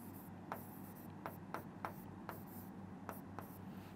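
Chalk or marker strokes on a board during a Class 10 maths lesson, a series of soft, brief scratchy taps spaced irregularly over a steady low hum, fairly quiet and without talk.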